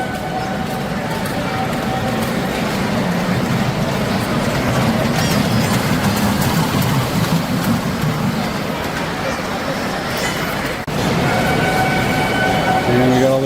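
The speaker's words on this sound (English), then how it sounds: "They're giving out free rides on Thomas the Tank Engine." Ride-on Thomas the Tank Engine train at a model train show, a continuous rumbling rolling sound under busy crowd chatter and voices in a large hall.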